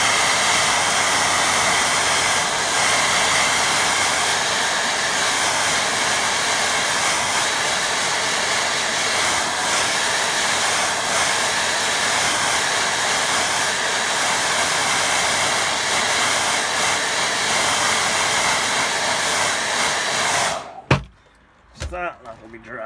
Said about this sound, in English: Right, I think now I'll do a bit of drying. Let's get it. Where's my hair drying?